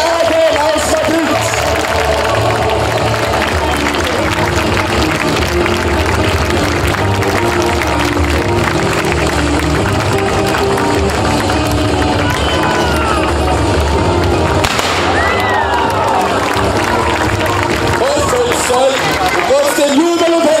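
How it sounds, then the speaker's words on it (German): A large outdoor crowd at a knights' festival in Laxenburg cheers and claps steadily in a dense, continuous roar of voices and hands that holds loud for the whole stretch. "Trotzdem Jubel und Händegeklapper"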